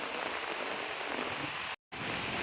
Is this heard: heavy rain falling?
yes